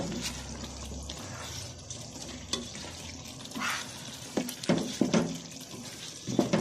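Half a cup of water poured into a chicken karahi with cumin and coriander powder as it cooks, giving a faint liquid splash and sizzle with light stirring clatter, no voices.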